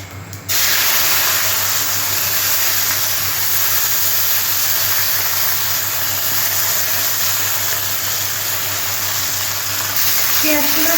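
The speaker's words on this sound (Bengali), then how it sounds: "এবার আমি পেঁয়াজগুলো দিয়ে দিচ্ছি।" Chopped onions drop into hot oil over fried whole spices for an egg and potato curry, setting off a loud, steady sizzling hiss that begins abruptly and continues without a break.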